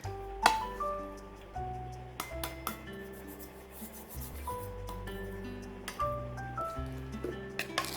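A spoon scrapes and clinks against a bowl as salt and quinoa red lentil flour are mixed for dumpling dough, with soft rubbing strokes and a few sharp taps over a steady tonal background, no speech.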